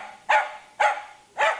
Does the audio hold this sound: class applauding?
no